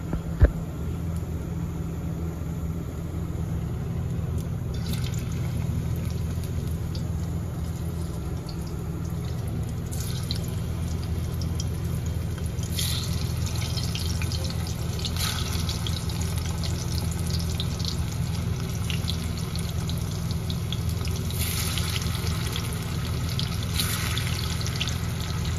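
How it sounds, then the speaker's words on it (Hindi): Boiled vegetable slices frying one at a time in hot oil, a steady close sizzle with occasional brighter crackles and spatters, lasting throughout without speech. "अब मैं इसको एक एक करके फ्राई करूँगी"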